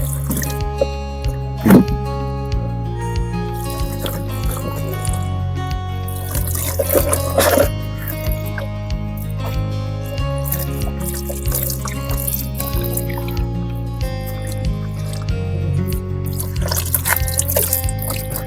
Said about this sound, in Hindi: पानी हम लोग ऊपर से नीचे की ओर ऐसे डालेंगे।